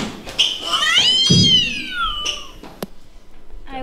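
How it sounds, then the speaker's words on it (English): A cat meows in a long, rising-and-falling cry that sounds close and loud, followed by a shorter call, with a soft thump partway through and no talking. "The cat had pounced quite unannounced."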